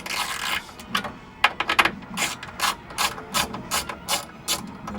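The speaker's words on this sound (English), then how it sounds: "Boring unscrewing here." Ratcheting screwdriver removing screws from an arcade cabinet, a rapid series of close, sharp clicking bursts with an uneven rhythm and no talking.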